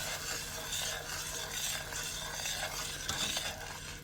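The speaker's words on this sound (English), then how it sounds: "put the color in, and stir a little bit" Color is stirred into hot hard candy syrup just off the flame at 300 degrees, making a continuous dense hiss with soft scraping strokes, close and steady, with no speech.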